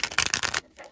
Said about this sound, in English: One more shuffle and then I'll see.